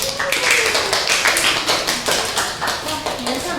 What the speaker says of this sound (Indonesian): Tepuk tangan Minasang